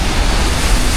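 Mini Devkund, a waterfall near Bhivegaon, pours down from a high cliff. A loud, dense, continuous roar of falling water fills the brief moment with no voices.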